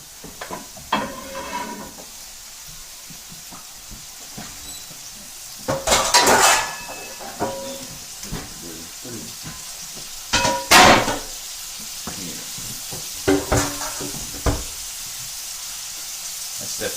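Soft ongoing sizzle of shrimp in a hot pan for pad thai, broken by clattering metal utensils and pan scrapes at intervals; faint murmured speech now and then.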